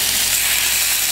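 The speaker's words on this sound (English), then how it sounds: "I'm gonna go ahead and just drop the steak in" Steak hitting a hot oiled pan on a stove at medium-high heat, giving a steady, loud broadband sizzle that holds evenly without pause and with no voices.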